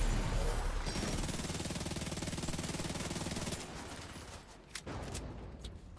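SMG gunfire in the video game Division 2, a rapid continuous burst of shots for about three and a half seconds that cuts off, followed by quieter scattered game sounds and a couple of sharp impacts.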